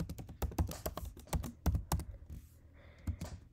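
Rapid bursts of close keyboard typing on a computer, uneven clusters of clicky keystrokes with short pauses while entering script code, no voices.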